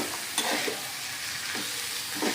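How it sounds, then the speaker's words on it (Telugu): Beetroot and carrot fry is stirred in a pan, a soft steady sizzle with a few quiet scraping strokes of the spoon, faint and close, with no voices. "మొత్తం ఒకసారి కలిపేసుకుందాం"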